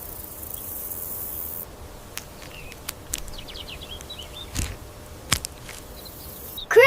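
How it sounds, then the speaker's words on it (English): A grasshopper chirps in short, faint, rapid rasping bursts over a steady outdoor insect hum, with a few soft clicks and no talking. "Grasshopper."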